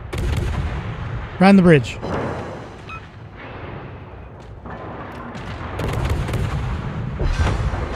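Naval guns booming during a World of Warships battle, a few heavy shots with a sharp report near the start and duller thuds later, mixed under a player talking over the game sound.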